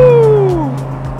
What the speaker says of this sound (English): we are gonna get a good view of a black Lamborghini Gallardo taking off